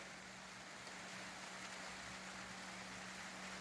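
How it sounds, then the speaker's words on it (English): Light rain falls outdoors in a garden in Brazil, a soft, steady, faint hiss with a low hum beneath and no voices. "It's raining very lightly."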